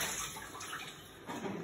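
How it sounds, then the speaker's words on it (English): Salt water is poured out of a pot in which artichokes have soaked, a faint steady splashing stream running for the whole moment with a slight surge near the end. "Pour out the salt water."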